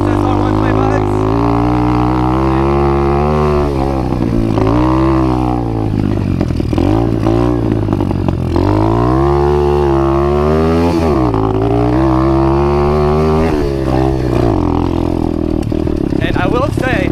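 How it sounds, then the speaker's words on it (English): An Apollo RFZ dirt bike being ridden, its engine loud and close and droning steadily, with pitch rising and falling through repeated revs and gear changes across the whole stretch. "I feel like this bike is a little bit louder than the regular SSR 125s"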